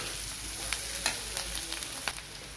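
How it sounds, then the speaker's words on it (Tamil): Onions and green chillies fry in a pan for a crab thokku, making a continuous close sizzle with light intermittent crackles and soft stirring taps, and no voices. "வெங்காயம் நல்லா வதங்கணும்."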